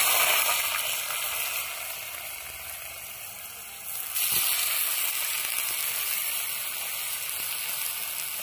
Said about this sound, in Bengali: এবার তেলটা গরম হয়ে গেছে, এবার তেলে দিয়ে দেবো।